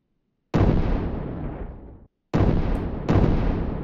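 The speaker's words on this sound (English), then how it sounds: "Yep, that's quite an explosion." Three heavy, booming explosions of Star Destroyers in the game Brick Rigs, each starting abruptly and rumbling out; the first decays over about a second and a half before cutting off.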